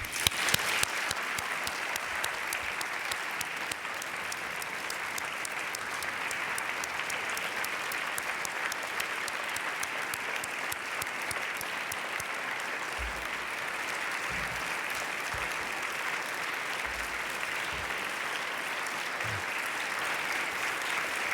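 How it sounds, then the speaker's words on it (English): A lecture audience gives sustained applause for Hunter, a dense, even wash of clapping that stays steady and fairly loud for about twenty seconds, with a few low knocks late on. "please join me in one last moment to clap for Hunter"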